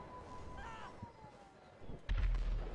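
A single heavy bomb blast in GTA V Online lands with a sudden deep boom near the end, following a quiet stretch of game ambience with a faint rising whistle.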